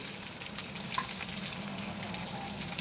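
Garlic and green chilies frying in oil for shutki bhorta give a steady, close hiss and crackle that stays even throughout, with no talk.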